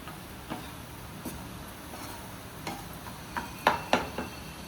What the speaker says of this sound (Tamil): சேர்த்துட்டு நல்லா கிளறி விடணும். இப்படி நம்ம குத்தி குத்தி கலந்து விடணும்.